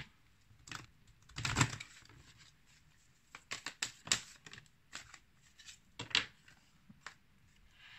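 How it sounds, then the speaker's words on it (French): Oracle cards being shuffled and handled for a daily reading, heard as scattered soft riffles and taps with a louder burst early on, fairly close and quiet, with no talking. "on va prendre en premier une carte d'oracle au quotidien"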